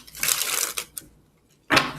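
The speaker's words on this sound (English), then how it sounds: "That wasn't a good shuffle, was it?" Tarot cards are shuffled in short bursts, two quick riffles and a small tap followed by a pause and another brisk riffle, close and crisp.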